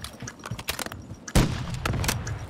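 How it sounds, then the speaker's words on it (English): Sniper gunfire in a ranked battle royale video game: one sharp, loud shot rings out with a booming tail, following scattered quieter game sounds. "somebody's trying to snipe at me"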